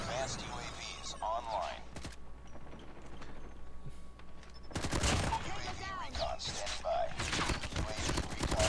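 Rapid gunfire bursts from the Call of Duty: Mobile game, with a Damascus AMAX rifle in ranked play, crackling in repeated volleys near the start and again louder in the second half, with voice chat talking over it.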